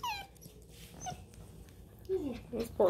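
A Bluetick Beagle puppy whimpers and whines in a few high, thin cries, soft at first then louder at the end, with a voice speaking faintly nearby.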